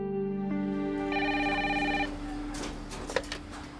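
A telephone rings on the line while calling a hospital landline, a steady electronic tone in two long bursts then fading, with no talk over it.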